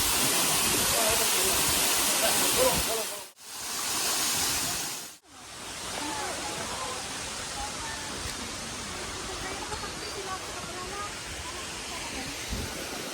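Water rushes steadily at Ng Tung Tsai Waterfall, a close, loud broadband roar that cuts out twice briefly before continuing unbroken.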